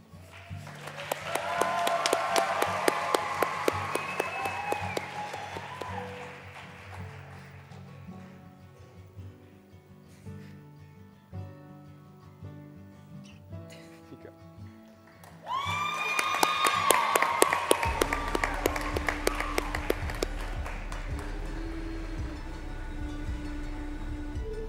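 A crowd at the FFA State Leadership Conference applauds and cheers in two loud bursts with a quieter stretch between, and some whoops rise over the clapping.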